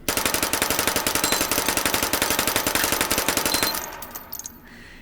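Rapid full-auto gunfire from a 25 ACP submachine gun in the VR shooter Hot Dogs, Horseshoes and Hand Grenades, a steady stream of loud, tightly spaced shots for about four seconds, then cutting off into a few faint clicks and echoes.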